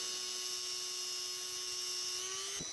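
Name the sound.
rotary tool with small cutoff wheel cutting grooves into Damascus ring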